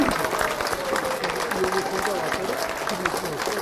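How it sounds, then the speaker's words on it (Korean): A crowd applauding with continuous clapping, fairly faint and diffuse, with voices mixed in underneath. "큰 박수"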